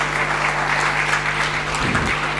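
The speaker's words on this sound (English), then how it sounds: "kindly give it a huge round of applause to all" Audience clapping steadily at a conference award ceremony, a dense continuous round of applause from a crowd in a hall, with a brief thump near the end.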